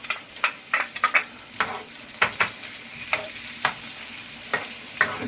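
Tomatoes and garlic sizzle in hot oil in a pan while being stirred, with a steady fry hiss punctuated by repeated sharp scraping and clattering spoon strokes, close and fairly loud with no voices.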